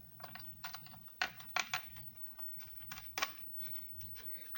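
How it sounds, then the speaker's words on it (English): Keys clatter on a Commodore VIC-20 computer keyboard under repair, a close, irregular run of dry clicks with a few sharper, heavier strikes and short pauses between them, with no talking. "I'm gonna try typing on this."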